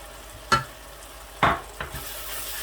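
Spices stirred into chicken in a cooking pan, salt, chili, turmeric, coriander powder and black pepper, giving two sharp scraping strokes with a fainter third over a steady low sizzle.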